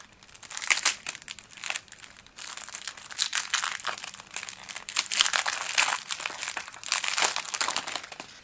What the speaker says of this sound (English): So let's open the deck up itself.